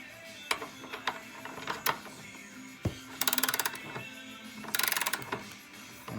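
Ratchet wrench tightening a nut on the plastic radiator fitting of a 1996 Ford Thunderbird, giving two close bursts of rapid clicking amid scattered metallic taps and handling noises.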